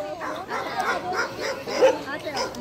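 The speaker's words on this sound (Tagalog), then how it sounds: "Askal versus German Shepherd." A German Shepherd and a stray dog fight on a beach sand bar, with rapid yips, growls and whimpering barks close by while people talk over the scuffle.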